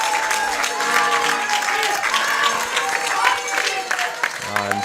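A home crowd in Switzerland applauds at the World Junior Curling Championships men's final, steady clapping from many spectators with voices and cheers mixed in, a commentator talking over it.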